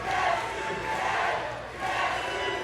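A wrestling crowd at a live independent show chants in unison, a loud rhythmic two-beat call that swells, dips briefly, then rises again, with a voice mixed into the roar.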